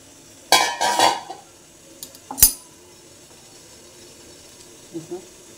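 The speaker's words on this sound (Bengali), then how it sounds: "আমি ঢাকনাটা নামিয়ে দিচ্ছি।" A metal pot lid comes off a pan of cooking Manchurian with sharp clanks and a ringing clatter, then a quieter knock and faint rattles later, close up.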